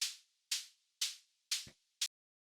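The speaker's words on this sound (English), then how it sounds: "I just have this main hi-hat that I made with operator" Five crisp, bright hi-hat hits come at a steady half-second pulse, synthesized from white noise through a bandpass filter; each decays quickly, and the last is clipped shorter.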